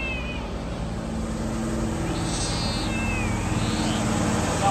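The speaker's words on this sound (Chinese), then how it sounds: "哇，还好好几只猫啊，" Several cats in a rural village meow a few times, thin drawn-out cries rising over a constant outdoor background hum.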